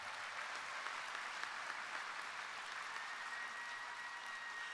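Steady applause from members at the opening session of the International Moose Convention, a dense even patter of many hands clapping that holds constant for several seconds, heard somewhat distant.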